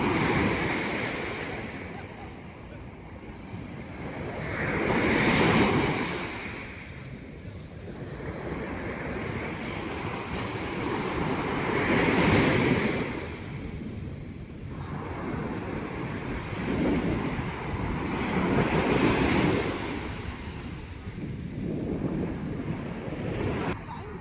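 Surf rolls onto Dubai's Kite Beach in broad washing swells that rise and fade every few seconds, mixed with wind buffeting the microphone, with no voices.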